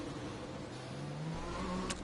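A Ferrari F1 car engine pulls out of the pits in the F1 video game at the Singapore Grand Prix, a short, steady mid-pitched engine drone with a faint rising tone and a brief sharp click near the end.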